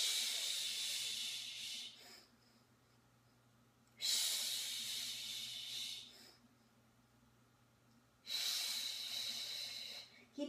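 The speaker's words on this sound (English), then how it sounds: "We do percussive breathing to warm up the body to get ready for the rest of the Pilates workout." Percussive breathing during a Pilates Hundred warmup: close, sharp hissing breaths come in three long bursts, each separated by a quiet pause.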